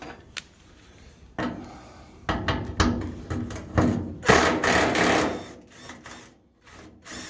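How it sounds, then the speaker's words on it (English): A 1/4-inch impact wrench removing the trunk lid bolts of a Monte Carlo during rust repair, several short loud rattling bursts of hammering close by, separated by quieter gaps. "this 1/4-inch impact, it'd do a lot of stuff"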